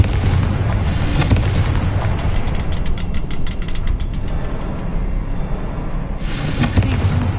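A Confringo spell explosion in a wizard video game bursts into a loud, sustained boom with rumbling debris and crackling blasts rolling on for several seconds, close and filling the scene.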